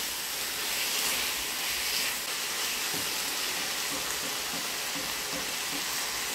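Mushrooms and salt cod sautéing in a hot pan: steady, bright sizzling hiss that holds throughout at moderate volume, with faint clicks of the food shifting and no voices.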